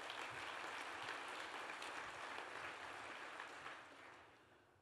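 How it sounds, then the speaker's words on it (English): Audience applause at a Greater Boston Chamber awards event, a broad, steady patter of many hands that holds for several seconds, then tapers and fades toward the end, fairly faint overall. "Another round of applause for him"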